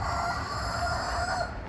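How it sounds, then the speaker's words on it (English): Chickens and a rooster cluck and crow continuously at moderate distance over low background noise. "Chickens."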